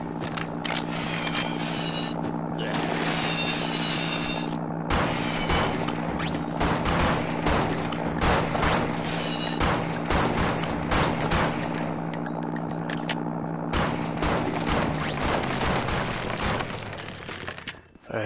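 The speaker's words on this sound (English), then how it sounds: "I just heard shots, I'm like, where is it coming from?" Rapid bursts of gunfire crackle through the video game Blood and Bacon, layered over a steady droning music bed and sustained for most of the stretch before cutting out near the end.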